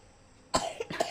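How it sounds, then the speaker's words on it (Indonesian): A small child who caught a cough from someone gives a few short, close coughs in quick succession after a quiet moment. "Soalnya adek kayak batuk gitu"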